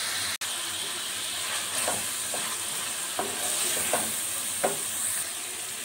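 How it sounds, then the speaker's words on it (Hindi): Chickpeas frying with garlic and spices in a pan, a steady close sizzle with several sharp scraping stirs of a spoon against the metal, alone without talk. "चनों को भी हमने अच्छी तरह से भून लिया है"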